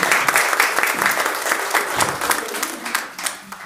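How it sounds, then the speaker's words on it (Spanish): Applause from the audience at a women's political rights forum in Mexico as Adriana Leonel de Cervantes is welcomed, a dense patter of many hands clapping close by that eases slightly toward the end. "Un aplauso, por favor, para Adriana Leonel de Cervantes."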